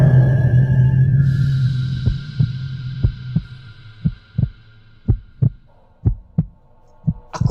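Heartbeat effect for a horror story, with about a dozen deep, evenly spaced thumps rising out of a fading low hum and a high drone, no one speaking.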